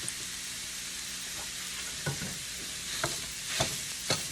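Sausage sizzling in a frying pan while a utensil scrapes and breaks it into small pieces, a steady hiss under a few distinct scraping knocks toward the end.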